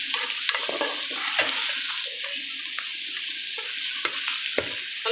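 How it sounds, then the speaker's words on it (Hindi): Karela (bitter gourd) and chana dal fry with spices in a pan, giving a steady sizzle with repeated scraping stirs of a spoon through the mix, close and clear with no talking. "अब इसको अच्छे तरीके से हम फ्राई कर लेंगे।"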